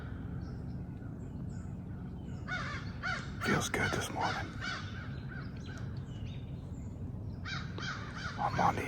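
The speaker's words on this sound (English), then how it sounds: "Damn crows going crazy." Several crows caw loudly in irregular bursts near a thicket edge of oaks and hardwoods on a late October morning, with someone speaking quietly at times underneath.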